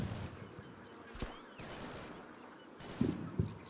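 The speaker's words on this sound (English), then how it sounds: "Good machine gun fire." Light machine gun fire in the Normandy combat game Combat Mission: Battle for Normandy, heard as several distant, muffled bursts and sharp cracks, with a heavier pair of shots near the end.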